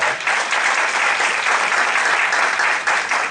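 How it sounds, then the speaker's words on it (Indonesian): Audience applause at a business talk, a dense steady wash of clapping from a crowd that holds at full strength for several seconds. "Ya, tepuk tangan dulu dong buat saya."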